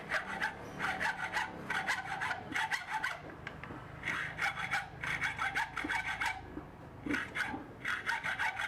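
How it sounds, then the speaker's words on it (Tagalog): A hand saw cuts through a rusted screw on an LPG burner in rhythmic rasping strokes, grouped in short bursts with brief pauses, close but fairly quiet. "Be careful lang pala mga boss sa paglalagari dahil talas ang lagari."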